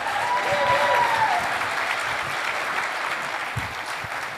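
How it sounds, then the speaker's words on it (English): Audience applause fills a conference keynote hall, a steady loud wash of clapping from a large crowd that holds strong for a few seconds, then gradually thins while a few scattered claps and whoops continue. "Give yourselves a round of applause."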